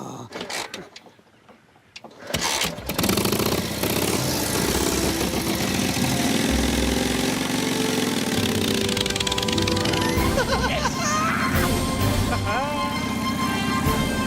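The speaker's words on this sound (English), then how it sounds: "Sounds like an old tractor." An old motorcycle engine starts up and runs with a loud, rough, uneven chug, close by, as people talk over it.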